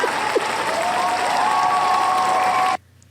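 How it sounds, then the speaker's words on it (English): A canned applause and cheering sound effect, a dense crowd clapping steadily and loudly with a few rising cheers, then cutting off abruptly to near silence at the end. "Listen to all of our Patreon subscribers cheer."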